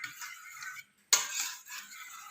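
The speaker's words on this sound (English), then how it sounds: "Whisk it till it's nice and smooth" A whisk works through cheesecake filling in a bowl, a scraping, clinking stir with a brief pause before resuming, close and fairly quiet, no talking.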